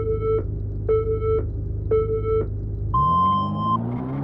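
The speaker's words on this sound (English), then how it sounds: "it will beep and count down 3, 2, 1, and then we'll be able to race" A Unity racing video game counts down with three evenly spaced electronic beeps followed by a longer higher start tone, over a low engine rumble that swells as the car revs up.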